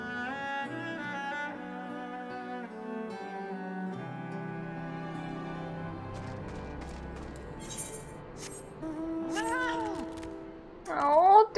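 A flying cat mount in the video game Final Fantasy XIV gives soft meows near the end, over a layer of game music and under a person talking.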